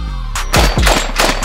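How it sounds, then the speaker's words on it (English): A shotgun fires in rapid succession during a three-gun style shoot, a quick burst of sharp, loud reports followed by faint metallic clinks as spent shells land on the ground. "I just loved watching all these shells hit the ground."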